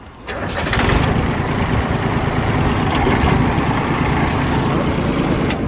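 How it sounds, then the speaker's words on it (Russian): A small Yanmar F14D tractor diesel engine cranks briefly and catches, then settles into a steady, loud, low chugging rumble right near the microphone. "Давайте запускать."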